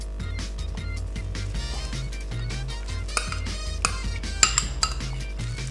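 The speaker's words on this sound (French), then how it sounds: "Je mets avec une cuillère mon savon." A metal spoon clinks and scrapes against a pot while scooping homemade laundry soap into hot water, with a run of close, sharp clinks and knocks and no talking.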